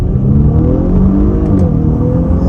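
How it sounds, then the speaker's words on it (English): A loud, steady engine roar as a 2023 Audi SQ5 accelerates hard, the exhaust droning and rising in pitch throughout. "And I love that exhaust noise."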